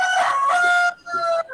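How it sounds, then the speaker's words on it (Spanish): A rooster crows loudly and close by in two strained bursts with a short gap between, carrying into a second-grade online class. "Chicos, silencio ese gallo."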